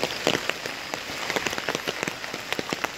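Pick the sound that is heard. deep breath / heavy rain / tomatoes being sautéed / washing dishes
heavy rain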